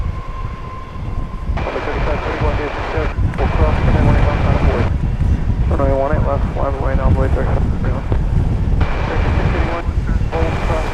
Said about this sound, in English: that was American Airlines 777-300ER